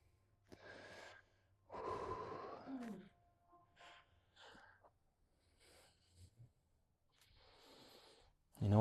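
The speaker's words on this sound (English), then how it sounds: "Some long, deep breaths." Slow, deep breaths during a yoga forward fold, several long airy inhales and exhales spaced apart, soft and close with quiet pauses between them.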